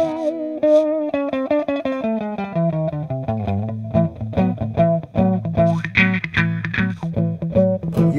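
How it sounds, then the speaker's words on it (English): Distorted electric guitar chords played through a wah pedal pulled up into a metal sound, loud and sustained with shifting chord changes, the tone nasal and bright, with no talking. "so if I'm pulling the pedal up into a metal sound,"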